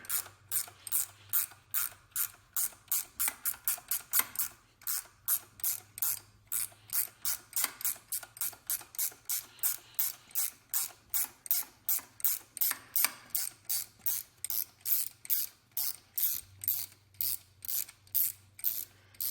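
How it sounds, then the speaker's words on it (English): A 13 mm ratcheting wrench turns a long bolt while replacing a belt tensioner on a GM engine, giving a steady run of close, crisp ratchet clicks in fast bursts with a brief pause midway and no talk. "Ratcheting wrench. Make your life a lot easier. 13 millimeter."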